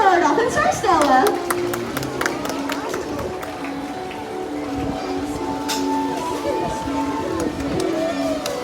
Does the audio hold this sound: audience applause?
yes